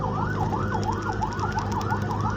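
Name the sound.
ambulance siren in traffic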